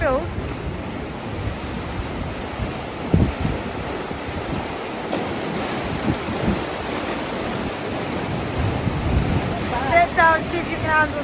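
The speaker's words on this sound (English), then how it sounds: "sound of the wave." Ocean waves wash onto a Zanzibar shore, a steady broadband surf roar with wind buffeting the microphone, and a brief voice near the end.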